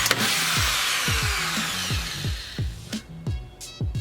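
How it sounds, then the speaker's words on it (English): A drill grinds steadily into a bolt on a turbo exhaust manifold, working to extract it on a 450 whp Hyundai Genesis. Repeated low knocks sound underneath, and the noise breaks off into intermittent taps near the end. "Here I am, drilling away, trying to extract this bolt out of the turbo manifold"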